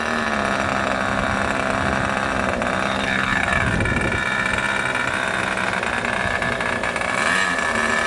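An engine runs steadily under throttle, loud and close, with a droning roar that rises and falls slightly in pitch near the middle before settling again.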